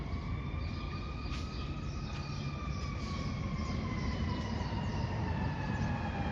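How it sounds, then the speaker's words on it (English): A fire truck siren sounds loud and close at a parking garage, its wailing tones sweeping continuously over heavy engine rumble with no speech. "Here's a fire truck."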